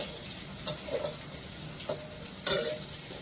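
Onion and vegetables fry quietly in a pan while a utensil scrapes and clinks against it a few times, with one sharper knock near the end.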